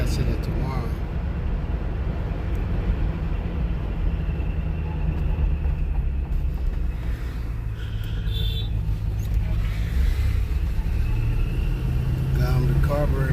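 A 1978 Corvette 25th Anniversary Edition on a test drive, its carbureted engine rumbling steadily and loudly from inside the car, with road and wind noise mixed in and someone talking over it.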